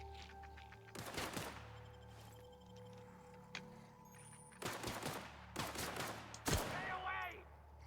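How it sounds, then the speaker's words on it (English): Gunfire from another player in a video game, bursts of rapid shots in a few separate volleys over a low background hum, fairly close, no clear speech. "Oh, you fucking started shooting at me"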